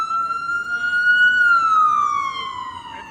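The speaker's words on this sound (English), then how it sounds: "Lots of sirens tonight in New York." Emergency vehicle siren on a New York City street at night, a loud, close wail that holds and then slowly drops in pitch over a low traffic hum.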